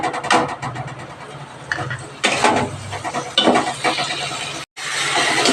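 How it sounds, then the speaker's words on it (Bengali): A paste of ground cumin, coriander and Kashmiri red chilli is stir-fried in a pan, with bursts of loud scraping and sizzling as it is stirred, broken by a brief silent gap near the end. "এইবার ভালো করে আবার কষাবো"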